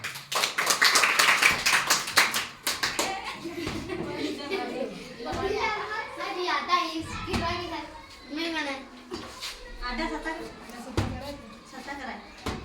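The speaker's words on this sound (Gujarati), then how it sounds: "જોરદાર તાળીઓ" Loud clapping from children during a balloon-toss and cup-flipping game, with a dense burst of sharp claps in the first few seconds, followed by kids talking and occasional single taps.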